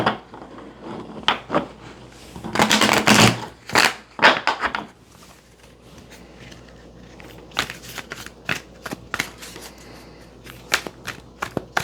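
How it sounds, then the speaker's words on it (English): Close shuffling of a deck of tarot cards, with quick riffling bursts and soft slaps in bursts, then lighter shuffling sounds. "Actually, let me do a couple more shuffles."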